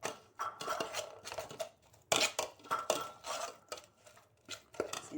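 Fish pie filling thickened with flour is stirred in a pot, with repeated soft scraping and clinking of a utensil against the pan in an uneven rhythm, close and fairly quiet, without talk.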